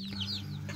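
Native chickens and chicks in a new coop in the Philippine countryside give short, high peeping cheeps and soft clucks, close by, over a steady low hum.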